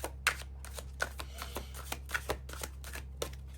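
Tarot cards are shuffled by hand during a reading, a quick series of crisp riffling slaps and flutters in an irregular rhythm, close and fairly quiet over a low steady hum.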